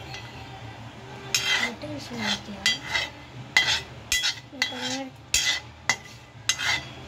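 A utensil scrapes and clinks against a pan while stirring tomato rice with onions, in about ten separate strokes. The scrapes come in an uneven rhythm over a quiet background.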